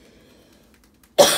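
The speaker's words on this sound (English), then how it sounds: "this cough is so annoying" A single sharp, loud cough bursts out near the end after a quiet stretch with a faint low murmur, cutting off abruptly.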